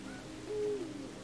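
An owl hoots once in the video game Endling: Extinction is Forever, a soft, mid-distance call rising briefly over a quiet ambient background with no speech.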